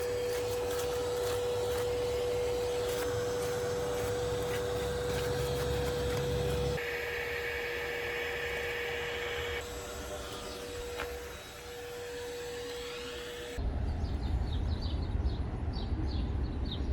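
A vacuum cleaner runs continuously while sucking wasps from a hornet nest, a loud steady drone with a high whine, shifting tone as the nozzle moves and changing abruptly near the end.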